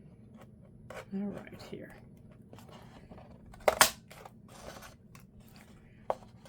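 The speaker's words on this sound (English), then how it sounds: "Okay, so I'm just going to cut some out." Scissors cutting paper shapes, a few scattered close snips and crisp clicks separated by pauses, with a person talking quietly between cuts.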